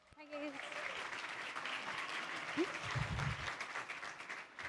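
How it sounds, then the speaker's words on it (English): Audience applause fills a large expo hall at a photography trade show, a steady wash of clapping from a crowd that runs throughout, with faint voices and a brief murmur mixed beneath. "please give a round of applause"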